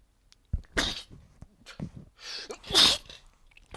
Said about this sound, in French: je vais m'éternuer dessus à force